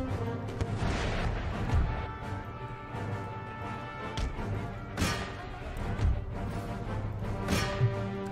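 Cannon fire in the Empire Total War battle, with several deep booms spaced across a steady din of combat and a droning musical background, moderately loud.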